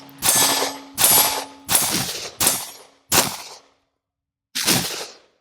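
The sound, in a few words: pistol gunshots from Smith & Wesson M&P Shield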